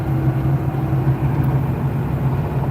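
A car cruises along a road, with a steady low engine hum and tire rumble heard from inside the cabin, constant and unbroken.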